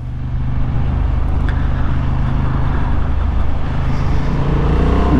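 A Honda Hornet 750 motorcycle engine drones steadily and loudly throughout, its low harmonic note sustained as the bike pulls hard under acceleration on the road, with wind noise over it and no talking.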